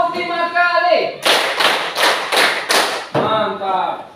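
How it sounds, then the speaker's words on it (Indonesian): Five sharp hand claps land in a quick even burst, close and loud, with a voice speaking just before and after. "Tepuk 5 kali."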